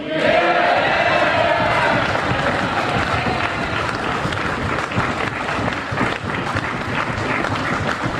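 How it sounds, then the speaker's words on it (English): A packed hall at a Glasgow University Union debate breaks into sustained applause, a dense, loud and continuous roar of clapping mixed with crowd noise that runs steadily throughout. "the most important person applauding is the rector"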